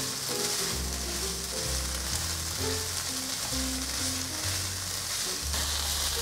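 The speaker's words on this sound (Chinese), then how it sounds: "把所有调味料炒匀" Cabbage filling is stir-fried with salt, white pepper, curry powder and black pepper, making a constant hissing sizzle under background music with no talking.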